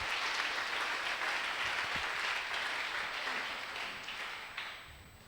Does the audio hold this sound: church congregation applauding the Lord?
yes